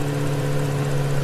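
A motorbike engine idles steadily as the bike comes to a stop, giving a close, even hum that holds at the same level throughout, with no voices heard.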